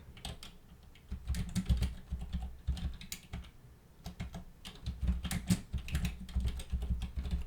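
Clicky keys on a computer keyboard tapped in quick, uneven bursts with short pauses between them, close and fairly quiet, with no talking.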